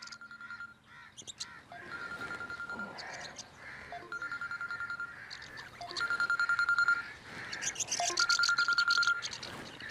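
A telephone ringtone sounds in repeated electronic bursts over several seconds, clear and moderately close, with quiet gaps between rings.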